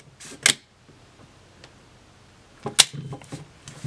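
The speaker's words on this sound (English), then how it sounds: "going to show you guys the shutter so you can watch it" A Mamiya ZE 35mm film camera's shutter fires in bulb mode, giving a sharp mechanical click, then a quiet pause before a second clack and small rattling sounds, all close up.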